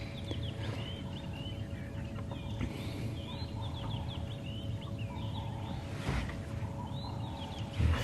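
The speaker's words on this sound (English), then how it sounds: "As the sun comes out, the birds go crazy after a night of rain. Robins calling," Robins and other birds call at sunrise after a night of rain on a safari morning drive, a steady chorus of chirps and whistles over faint background hum, with no voices.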